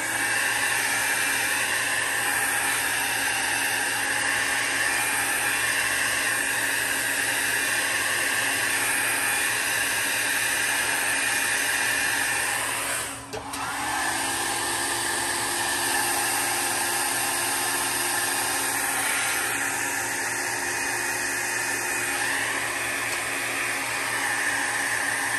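Air blower pushing alcohol ink across paper, a continuous loud broadband rush of air held steady for about twenty-five seconds with one brief dip partway through, close and uninterrupted by talk.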